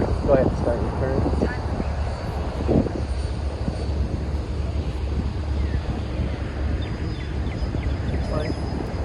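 An E-flite Habu STS ready-to-fly RC plane flies in a steady, moderately loud drone with wind buffeting, while voices talk over it throughout.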